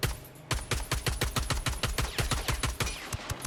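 A DMR rifle in Ghost Recon Breakpoint fires tracer rounds in a quick, loud series of roughly fifteen sharp shots, each with a low thump, running almost continuously with no voices.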